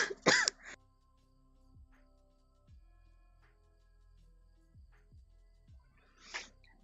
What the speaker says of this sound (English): I am so sorry if you heard me cough in your ear